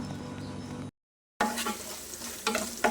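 Green chillies and grated coconut fry in a pan with a steady close sizzle and stirring scrapes, broken by a brief silent gap before the frying resumes with louder clinks and crackles near the end.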